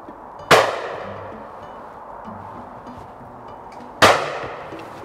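Two sharp, loud gunshots from a Churchill Hercules shotgun, about three and a half seconds apart, each a close crack followed by a decaying ring.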